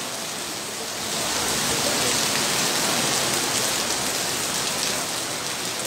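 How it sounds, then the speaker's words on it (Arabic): Rain falls at night in the city of Larache, a dense steady downpour that swells after the first second and keeps up a loud, even hiss throughout, with no talk. "الشتاء بدات، الشتاء بدات"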